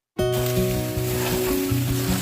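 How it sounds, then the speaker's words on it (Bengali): Mutton cooking down with whole spices and a few dried red chillies in a pan, sizzling loudly and steadily right from the start, with low tonal hums running underneath and no talk. "এবার সব মশলার সঙ্গে মাংসটা আমি ভালো করে কষিয়ে নেব"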